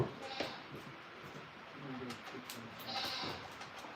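A dairy goat on a farm bleats a few times at moderate distance amid low background noise and faint voices.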